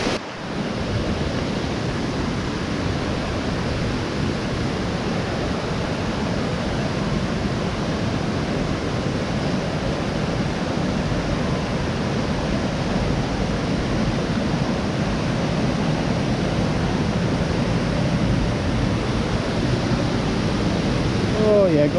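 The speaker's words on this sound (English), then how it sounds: "So it's a huge waterfall." Canoga Falls, a big waterfall at Ricketts Glen, gives a steady broadband rush of falling water that stays loud and unbroken throughout.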